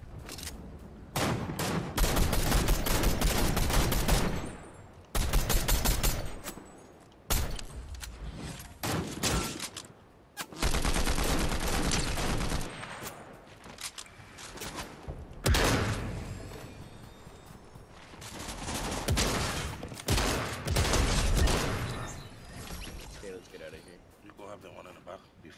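Heavy gunfire in a multiplayer shooter match: loud bursts of rapid automatic fire and volleys in repeated clusters separated by short gaps, with players talking between and over the shots.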